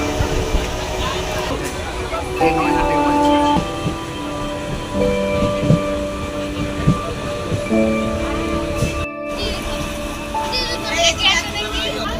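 A local commuter train from Sealdah toward Canning rumbles along with steady tonal humming and occasional clatters, while voices talk over the ride.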